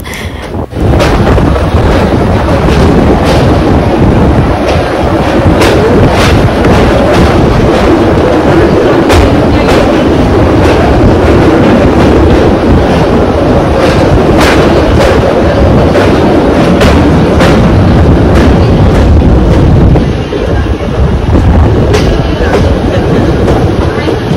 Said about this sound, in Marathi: नदीवरून चालली आहे ट्रेन ब्रिजवरून